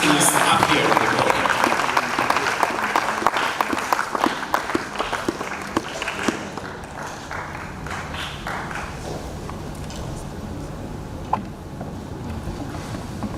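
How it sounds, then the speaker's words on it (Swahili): An indoor audience at a church gathering claps steadily as someone walks up to the podium, a dense, continuous applause that is loud at first and gradually thins out, mixed with scattered voices. "Put your hands together as he's coming."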